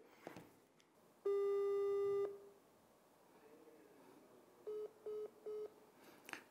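Telephone tones on a call to a lawyer: one long steady tone, a pause, then three short evenly spaced beeps of a busy signal, clear and alone.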